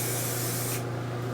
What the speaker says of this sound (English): I'm just going to spray this side a little bit as well.